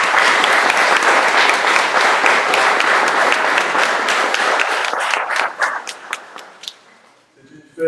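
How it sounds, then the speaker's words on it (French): A church congregation at a Mass for the Solemnity of the Holy Trinity applauds new communicants, a loud, dense round of clapping that thins into scattered claps and fades out near the end. "Applaudissons-les."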